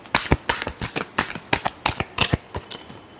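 Tarot cards being shuffled up close: a quick run of crisp riffles and slaps, about a dozen distinct bursts in a steady rhythm, with no voice over them.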